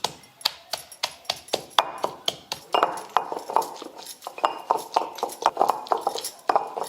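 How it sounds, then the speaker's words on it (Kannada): Green chilies, curry leaves, raw mango and salt are pounded on a grinding stone with a series of sharp, evenly spaced strikes, roughly three per second, each a close, hard knock with a brief ring. "ಈಗ ನಾನು ಮೆಣಸಿನ್ಕಾಯಿ ಕರಿಬೇವು ಸಣ್ಣಾಗೂ ಕುಟ್ಕೋತೀನಿ ನೋಡ್ರಿ."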